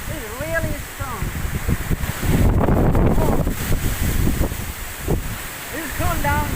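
Strong wind gusts roar during a sudden dust storm under heavy clouds, a loud broadband rush that swells around the middle, with a voice talking at the start and end.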